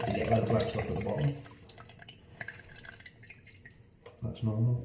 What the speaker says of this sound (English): Pour it to get rid of the black stuff at the bottom.